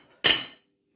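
Microwave low-carb bread made with chicken flour set down onto a plate, a single sharp clink of contact followed by a brief ringing decay, close and alone.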